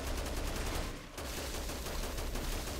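Sustained heavy machine gun fire in Dead Rising Deluxe Remaster, a steady loud rattle of rapid shots with a brief dip near the middle before the barrage resumes.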